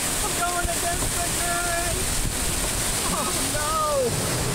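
Rushing water of the waterfall at DeLeon Springs, a steady broadband wash of spray and flow heard close by, while voices, including a child's, talk intermittently over it.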